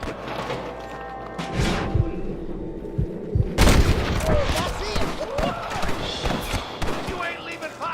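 A gunfight in the Red Dead Redemption video game: a busy run of loud shots and booming reports, some close and some farther off, rattling irregularly over ambient noise and scattered voices.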